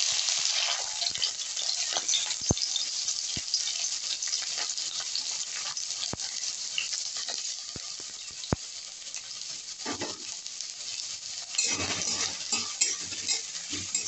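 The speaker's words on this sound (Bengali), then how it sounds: "আমার তেলটা গরম হয়ে গেছে, এর মধ্যে দিয়ে দেবো একটা মাঝারি সাইজের পেঁয়াজ, আমি কুচি করে রেখেছি সেই পেঁয়াজ কুচিটা।" Finely chopped medium onion frying in hot mustard oil in a wok, a loud continuous sizzle with sharp spoon taps against the pan and a burst of stirring near the end.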